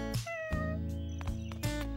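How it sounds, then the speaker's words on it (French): A small cartoon cat living in a garbage dump gives a few plaintive meows, close and fairly loud, with short calls following one another over a steady musical background. "Un chat vivait dans une décharge."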